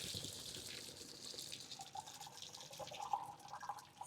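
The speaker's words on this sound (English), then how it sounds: "we're going to drain these in the sink" Boiled potatoes being drained in a kitchen sink, a soft, close hiss of running water with faint splashes and trickles.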